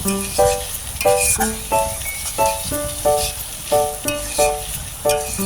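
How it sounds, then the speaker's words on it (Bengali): Bitter gourd and shrimp frying in a pan, with a steady loud sizzle and a regular rhythm of utensil scrapes and clinks as the food is stirred, close up and without talking. "আস্তে আস্তে নেড়ে চেড়ে আমি ভালো করে ভেজে নিব"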